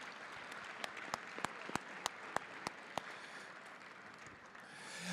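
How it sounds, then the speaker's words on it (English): An audience at an African American male achievement conference claps in a soft, spread-out round of applause, with a few sharp, distinct claps standing out near the front as the clapping slowly swells. "give Brother Springer one more round of applause"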